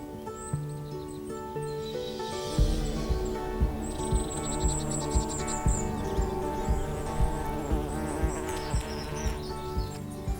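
Birds sing and chirp steadily through an evening woodland walk in a Devon copse, with bees humming faintly underneath and a rhythmic series of soft thumps or footsteps running through most of the scene.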